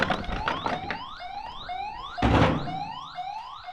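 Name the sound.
imitation of a motion detector alarm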